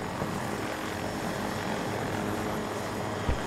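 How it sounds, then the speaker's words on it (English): A helicopter in the video game Battlefield 2042 gives a steady, loud, broadband rotor and engine roar that fills the whole stretch without letting up, with no talking. "I see a helicopter."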